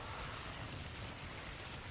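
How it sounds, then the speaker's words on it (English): Steady rainfall in the video game Warframe, a soft, even wash of hiss that stays constant and fairly quiet throughout, with no voices over it. "The rain is great."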